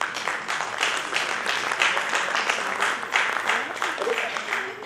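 An audience at a school founders day event claps steadily, dense sustained applause filling the whole stretch at an even level.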